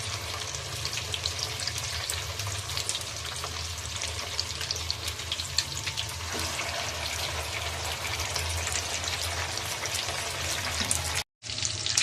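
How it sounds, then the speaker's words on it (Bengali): Noodle pakoras frying in a pan, a steady bright sizzle that holds close and loud throughout, with a brief dropout near the end and no talk. "তো এটা এক সাইড মোটামুটি ভাজা হয়েছে, তো আমি এটা অপর সাইড উল্টিয়ে দিচ্ছি।"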